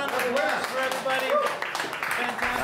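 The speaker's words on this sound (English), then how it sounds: "Let's have a round of applause for everybody." Applause breaks out at a televised poker game, steady clapping from a small crowd mixed with voices and cheering, moderately loud throughout.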